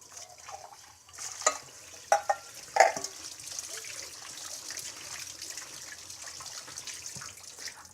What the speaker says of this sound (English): rinse them really well with some cold water